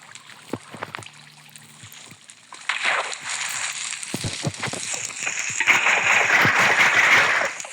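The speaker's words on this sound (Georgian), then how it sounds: "ჩაუშვით წყალი ძმა." Water is let in with loud sloshing and splashing that builds from about the third second and grows fuller toward the end, after quieter scattered knocks and splashes at the start, with no talking.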